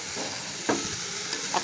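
Dried loitta fish frying in a pan while being gently stirred, a soft steady sizzle with a couple of brief scraping knocks.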